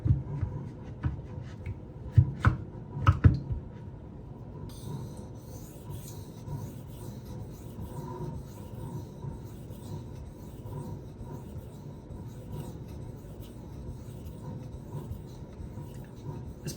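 Knife of 154CM steel drawn across a 1000 grit sharpening stone, giving a steady close-up rasping scrape throughout with a few louder strokes early on.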